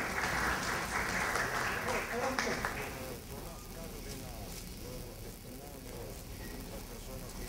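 Audience at a recognition ceremony for an adolescent and youth council claps for a few seconds, then the applause fades to light scattered clapping under voices and room murmur.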